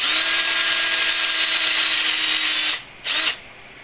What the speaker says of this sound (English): You're not trying to drill a deep hole